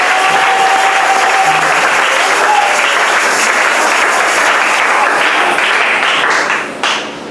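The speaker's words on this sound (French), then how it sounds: "Applaudissez." Dense, sustained applause from an audience at a sermon fills the air evenly for several seconds, then thins and fades out at the very end.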